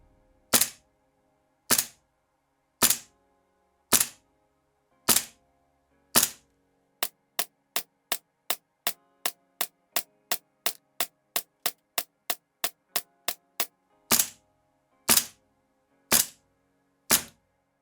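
Shots from a G&G MGCR 556 gas blowback airsoft rifle firing 6mm BBs on gas: sharp, loud cracks, first single shots about a second apart, then a fast even string of about nineteen, then single shots again, with no talking.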